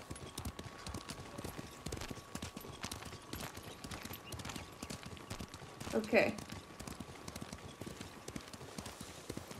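Rhythmic hoof clip-clop of a horse trotting in the video game Ghost of Tsushima, steady and continuous, with a brief spoken word and a louder burst partway through.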